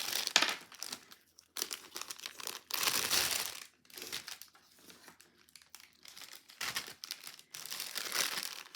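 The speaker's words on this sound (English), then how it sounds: "I think I'll go ahead and do a cellophane bag." Close crinkling and rustling of a cellophane treat bag being handled and folded, in irregular bursts of crackly plastic noise with brief quieter pauses, no talking.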